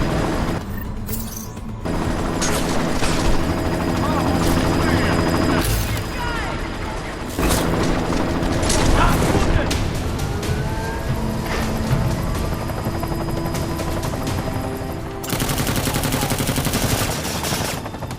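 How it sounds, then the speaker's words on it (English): Helicopter rotor drone and bursts of automatic gunfire from a battle in the video game Deus Ex: Mankind Divided, loud and sustained with dense clattering shots and mechanical noise throughout, under game music and effects. "You've got to stop that chopper."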